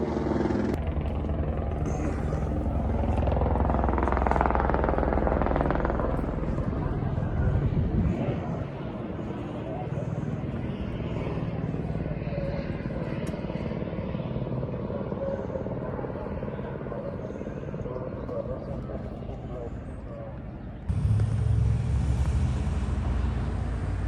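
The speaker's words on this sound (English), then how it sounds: "that's what you hear is that loud helicopter" A sheriff's helicopter's loud, steady rotor thrum fills the air overhead in Dana Point, California, rising and easing slightly, with a brief louder burst near the end.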